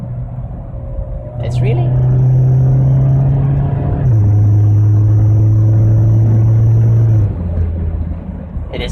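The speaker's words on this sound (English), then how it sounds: "it downshifts really nicely. It nicely blips the throttle for you" A Mazda Miata in automatic D mode downshifts with a quick throttle blip, the steady engine drone jumping in pitch then settling lower, close and loud under a man's speech.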